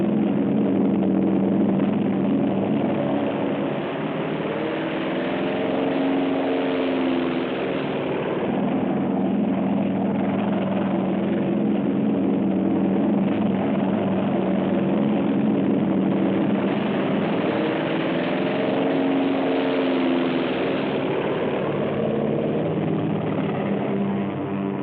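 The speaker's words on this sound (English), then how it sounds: "In the pre-dawn, the American carrier planes take off." American carrier planes take off in 1944 wartime documentary footage, a continuous loud drone of aircraft engines and propellers with a muffled, narrow-band quality, swelling slightly in places over about twenty-five seconds.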